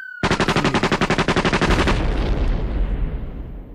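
Rapid automatic gunfire sound effect within a slowed and throwed hip-hop song, a dense burst of about fifteen quick shots in steady rhythm, loud and close, fading into a rumbling, noisy tail.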